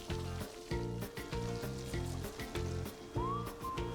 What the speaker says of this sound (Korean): 지글지글 군침 도는 박자가 멈추지 않습니다.